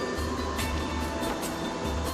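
Steady broadband rumble and rattle from inside a moving bus during a rainy night journey, a continuous drone with periodic thumps, no voices.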